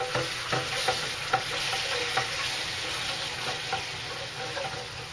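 Liquid is worked into a roux for roast turkey gravy, a continuous bubbling sizzle with a regular series of soft scraping strokes from stirring, close and fairly loud with no voices.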